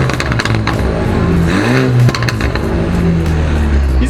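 Tuned BMW F30 320i with a remapped engine revving hard from outside, a loud continuous roar with a sharp climb in pitch midway before settling back to a steady drone.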